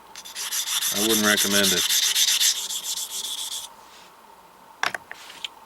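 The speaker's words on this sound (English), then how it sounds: "This stone without the swarf is really slow cutting" A well-worn Henckels chef's knife is stroked across a whetstone, giving a close, rhythmic scraping rub over a few seconds that then fades, with a brief spoken remark partway through and a couple of sharp clicks near the end.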